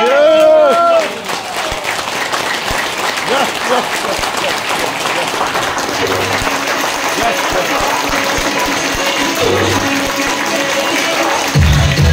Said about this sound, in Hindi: ताली बजाने का मौका मिले ना सर, ऐसी ताली बजनी चाहिए।